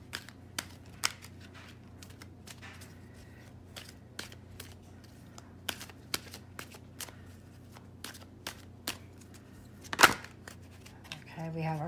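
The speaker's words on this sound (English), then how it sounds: "I'll go ahead and pull the Oracle card." Oracle cards shuffled by hand during a tarot reading, scattered soft flicks and snaps across the clip with a sharper riffle near the end, quiet and near with no talking.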